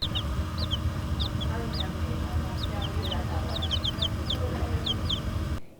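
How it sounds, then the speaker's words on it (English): A newly hatched chick in a school classroom gives repeated sharp, high peeps in short bursts, close and clear over a steady low background hum. "Here's a chick at Simmons Elementary."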